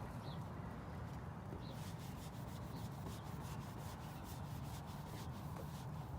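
Steady, continuous rubbing and scrubbing on a car's painted surface while working off a stubborn ceramic wax, a close abrasive swishing that runs throughout without pause or talk.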